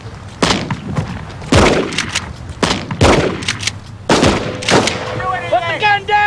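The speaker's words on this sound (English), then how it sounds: "We were shooting a number of shots" Police gunfire at an armed suspect with a shotgun about 125 yards away, several sharp shots spaced a second or so apart over shouting and background noise.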